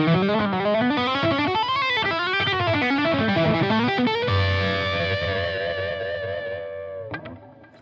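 Electric guitar lead tone through a Brunetti Mercury 50W head with boost engaged: smooth, sustained distorted melodic lines with bends and vibrato, then a long held note ringing out before fading, loud and alone.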